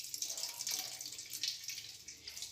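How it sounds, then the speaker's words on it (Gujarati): Vegetable momo stuffing wrung out in a cloth napkin, water trickling and dripping steadily into a vessel, a soft continuous splashy hiss with small surges, fairly close and alone. "હવે એને આ રીતે પકડી અને બધું પાણી નિતારી લઈશું।"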